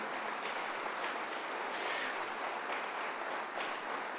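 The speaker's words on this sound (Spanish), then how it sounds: "Dale un fuerte aplauso a Jesús" Church congregation applause at a Spanish-language worship service forms a steady, fairly faint wash of clapping that continues for several seconds, with no talking over it.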